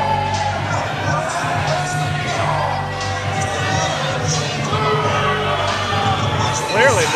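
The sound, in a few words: crowd booing a basketball player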